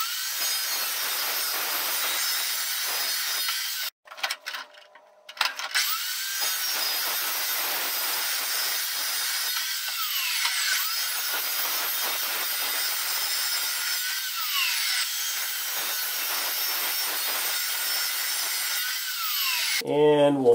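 A power saw blade cutting through material, a loud steady high-pitched whine lasting most of the stretch, briefly stopping once before resuming and ending with a rattling spin-down.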